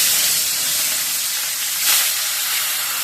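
Fish frying in hot oil in a home kitchen makes a steady, loud, close sizzle that fills the whole stretch without pause, swelling slightly once near the end.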